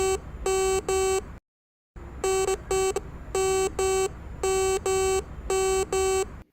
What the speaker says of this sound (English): If the signal is issued by a non-precious metal, the device will sound in a different tone